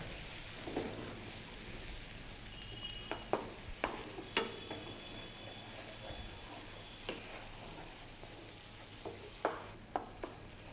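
Chicken sizzles and fries steadily in a pan for a mushroom sauce, with scattered sharp clinks and stirring taps over the continuous crackle, no talking.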